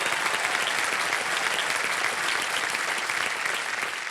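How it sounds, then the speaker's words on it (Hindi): Loud, sustained applause from the studio audience of Kaun Banega Crorepati, many hands clapping in a thick, even roar that stays strong for the whole stretch and dips only slightly at the end. "जोरदार तालियां बज जाए।"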